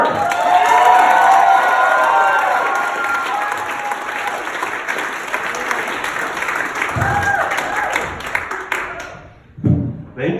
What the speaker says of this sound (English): please clap for Alexander Mark